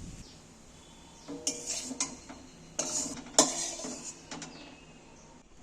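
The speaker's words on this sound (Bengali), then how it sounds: "এবার আমি এটাকে একটু ঠান্ডা করতে একটা জায়গায় ঢেলে দিচ্ছি" Cooked, fairly dry aloo chop potato filling is poured out of a pan onto a surface to cool, giving quiet scraping and a few sharp metallic clinks of utensil against pan in a hushed kitchen.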